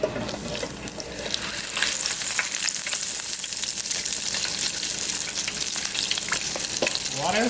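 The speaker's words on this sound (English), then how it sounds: "So I'm gonna go ahead and drop my chicken down in the grease." Battered chicken pieces drop into hot grease and fry with a loud, continuous crackling sizzle, close up and steady after an initial splash.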